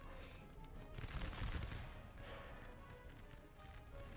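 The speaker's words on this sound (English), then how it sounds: "Having a musketry duel here." Musketry volley fire from line infantry in Master of Command, a Holy Roman Empire era battle game, crackles as a faint, distant, continuous rattle of massed muskets.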